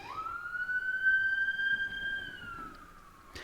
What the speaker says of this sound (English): And as I let the ambulance pass...